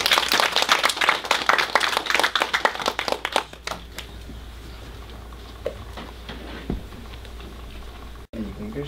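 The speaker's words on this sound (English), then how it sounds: "if we could give him a round of applause" A school audience claps for a student's father, Mr. Charles Kong, a dense patter of hand claps for about three seconds that thins out and fades into quiet room tone.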